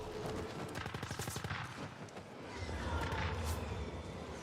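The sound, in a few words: turrets firing in The Ascent video game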